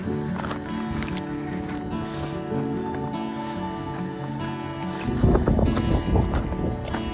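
Wind gusts across an open, sandy stretch of the South Rim trail in Big Bend National Park, a steady rushing buffet close to the microphone that grows heavier and more turbulent toward the end.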